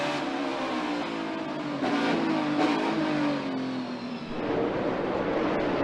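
A NASCAR stock car races at Sonoma Raceway, its engine roaring loudly with shifting pitch as it accelerates and passes, a steady close mechanical drone without talk.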